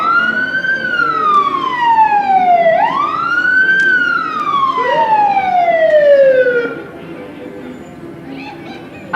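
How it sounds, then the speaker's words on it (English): Hudson Fire Department fire engines pass in a Booster Days parade, a loud wailing siren rising and falling in long sweeps before fading away, with a second siren tone and crowd voices underneath. "Couple of fire engines going by."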